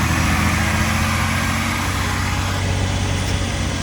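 A high-mileage BMW M4's engine idles steadily and loudly at close range, a continuous low rumble with no clear revving or startup burst, and no one speaking.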